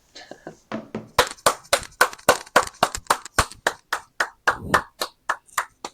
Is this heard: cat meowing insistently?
no